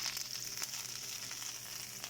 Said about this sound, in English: So you see how that's sizzling.